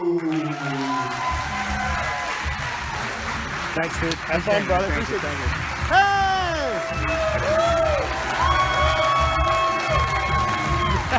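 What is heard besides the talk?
audience applause and cheering for comedian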